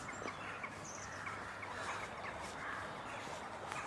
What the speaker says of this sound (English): That noise is the ducks.